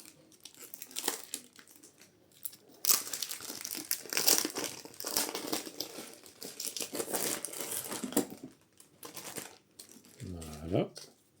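Plastic-wrapped trays from a Maladum board game expansion being unwrapped, close crinkling and tearing of cellophane in irregular bursts, with a voice speaking now and then in the background.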